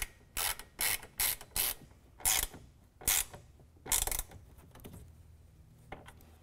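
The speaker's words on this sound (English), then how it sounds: "we're going to make sure that we work that screw all the way to the rail" A self-tapping T25 screw is driven into the rail of a Gator Recoil retractable tonneau cover on a Ford F-150. About seven loud ratcheting bursts come in an uneven rhythm, then fade to a quieter rattle, with no voices.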